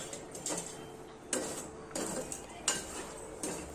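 Chickpeas being dry roasted are stirred in a metal pan, giving a series of dry rattling scrapes and clinks in irregular bursts, fairly quiet and close, with no voices.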